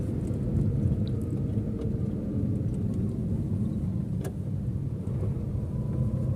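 A car drives at night after a downshift from fourth to third gear, its engine a steady low rumbling drone as it picks up speed, heard from inside the cabin with no talk.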